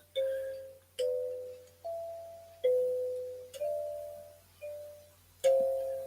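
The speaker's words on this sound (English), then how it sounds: "Is that just little sounds of chimes?" Soft, clear chime tones ring one after another in a slow, steady sequence, each note decaying gently against a quiet background.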